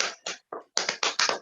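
Audience clapping at an Amway open-forum business plan presentation: a few short, separate bursts of hand claps, then denser, steadier applause, fairly close and with no voices over it.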